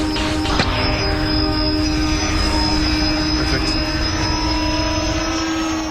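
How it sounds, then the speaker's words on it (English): A propeller-driven tethered kite wing takes off like an airplane, its engine drone loud and steady with a high whine running the whole time. A brief burst of noise comes near the start, and no voices are heard. "For takeoff, the propellers act like they do on a normal plane."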